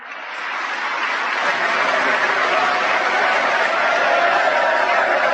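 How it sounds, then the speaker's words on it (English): A crowd at a political event applauds steadily, a dense continuous wash of clapping that swells in and holds at a strong level throughout, with no one speaking over it. "All those clowns applauding"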